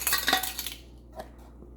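Loose cutlery jangles and rattles in a drawer during a search for a teaspoon while baking chocolate cupcakes, a close flurry of metallic clinks tapering into a few scattered taps and quiet.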